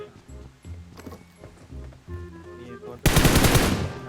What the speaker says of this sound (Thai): ยิงขู่เขาไปก่อนนะ